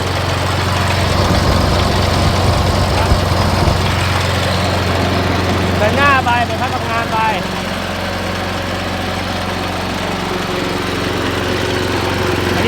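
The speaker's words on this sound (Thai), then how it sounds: "เดินเบานะครับเราไม่ได้เร่งเครื่องนะ" An old Japanese 13 hp Kubota riding lawn mower idles with a steady low drone throughout, unrevved, with a brief chirpy sound partway through.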